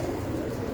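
Pigeon cooing softly on a rooftop loft, a short low murmuring coo heard close and on its own.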